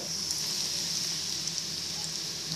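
Chicken fingers fry in a pan of hot oil, giving a steady bright sizzle that stays even and close for a few seconds, with no talk.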